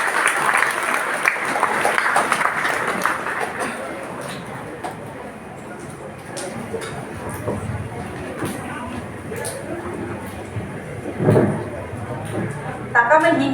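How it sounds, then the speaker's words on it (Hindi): Audience applause at a gathering about mothers against drugs, a dense burst of clapping at the start that thins into scattered claps and crowd murmur, with a voice heard talking over it. "एक बार जोरदार तालियां बजा दीजिए"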